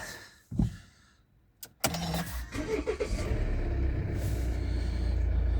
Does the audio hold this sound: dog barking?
no